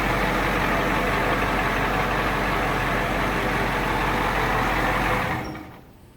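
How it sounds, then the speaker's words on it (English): The 7.3L diesel in a 1993 Ford E350 4x4 ambulance idles with a loud, steady, close clatter and low drone, then quickly fades as the engine shuts off near the end. "Sounds like a diesel."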